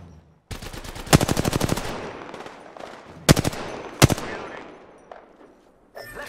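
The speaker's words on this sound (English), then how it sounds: "Taking fire." Automatic gunfire from an Apex Legends ranked match rattles in a long rapid burst, followed by two sharp, heavy bursts a few seconds apart and a final shot near the end, all loud and close.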